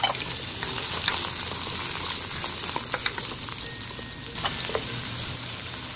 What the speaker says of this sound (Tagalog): Ilagay natin yung ating cooking oil kasi prituhin muna natin yung patatas at saka yung carrots.